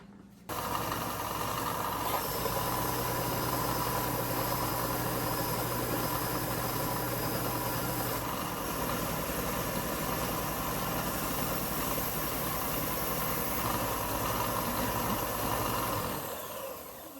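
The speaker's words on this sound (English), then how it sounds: "Now we're gonna go ahead and sand all our pieces after I plug in the sander." An electric sander runs on wooden Kubb game pieces, a steady motor whine with a constant hum that starts abruptly and holds for about sixteen seconds before stopping.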